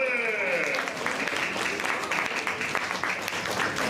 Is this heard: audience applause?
yes